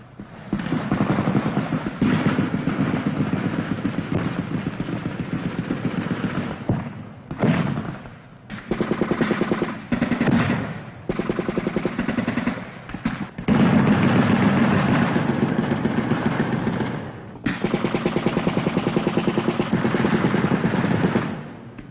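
Vietnam War infantry combat, 1966, with 25th Infantry Division troops returning fire against Viet Cong in a flooded delta: sustained loud bursts of rifle and machine-gun fire and explosions roll on almost continuously, with a few brief lulls.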